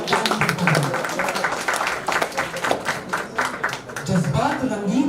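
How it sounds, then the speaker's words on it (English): An audience applauds performers at a chemical society conference, a sustained wash of clapping from a crowd, with an announcer's voice speaking over it. "applause once again to our talented performers."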